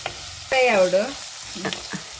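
Sardines fry in a pan with a steady, bright hissing sizzle, joined midway by a short, wavering tonal squeal before the frying settles back to a quieter crackle.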